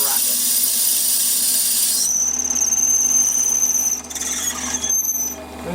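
A 6.8 mm drill boring into a workpiece on a lathe, producing a sustained high squealing whine that shifts pitch midway, over steady machine hum, then briefly quietens and resumes.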